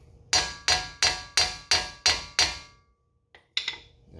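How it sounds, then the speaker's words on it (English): A hammer lightly taps around a wheel bearing seated in the steering knuckle of a Ford Fusion-family car: seven sharp, evenly spaced metallic strikes ringing briefly, a pause, then two more quicker taps, close and clear with no talk. "just take a hammer with tension still on this and just lightly tap around this just to give it a little bit of shock"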